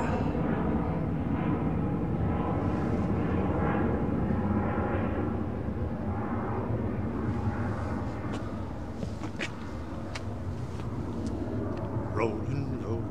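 A jet airliner departs runway 09R at London Heathrow with a loud, sustained broadband roar that slowly fades, and people talk over it.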